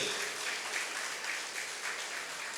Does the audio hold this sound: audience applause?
yes